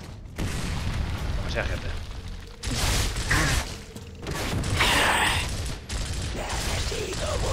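Heavy gunfire and booming explosions in the video game Gears of War come in loud, dense bursts separated by brief gaps, with someone talking over the action.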